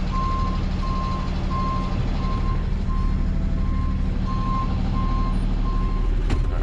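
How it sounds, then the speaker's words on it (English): A tow truck backing up sounds its reversing alarm, an even string of evenly spaced beeps over a low, steady diesel engine rumble, close by, with a brief thump near the end and no voices. "And then I'll back this thing up."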